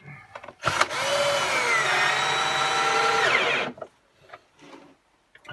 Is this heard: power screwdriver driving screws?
yes